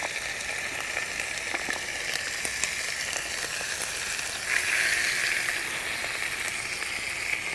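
Bacon frying on a Trangia 27-4HA camp cooker outdoors, a steady crackling sizzle that flares louder midway, close and alone with no voices.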